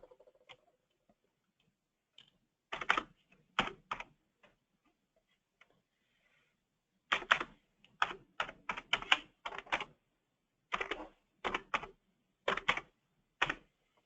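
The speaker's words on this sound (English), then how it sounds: "I'm going to put my email address in here now." Bursts of typing on a computer keyboard while an email address and password are entered into a dealer portal login, close and crisp, with quick clusters of key clicks separated by short pauses and no talking.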